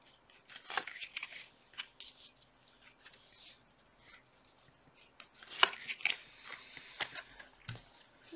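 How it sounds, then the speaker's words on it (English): Tarot cards being shuffled and pulled, giving a string of quiet, crisp flicks and riffles with a sharper slap near the middle, close and fairly soft, with no talking over it. "Let me pull two more cards."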